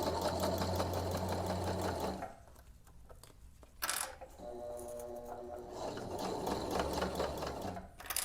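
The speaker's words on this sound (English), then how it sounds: "sew the length of the fabric and the mesh" A sewing machine runs steadily while stitching fabric and mesh for a mesh front pouch, with a brief stop and a few clicks before the whirring resumes.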